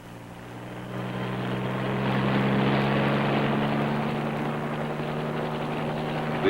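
A wire-laying marine helicopter in flight, a steady low rotor and engine drone that swells gradually and holds, heard with no voices.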